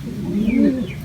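A racing pigeon gives a soft, low coo that rises and falls once, close by and fairly clear, with faint bird chirps in the background.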